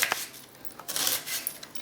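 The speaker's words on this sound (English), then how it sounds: "we're going to just cut across to make slices out of that" A kitchen knife slicing across a peeled onion on a chopping board while preparing a stir fry, a few light, quick tapping cuts and soft scraping, close and fairly quiet, with no talking.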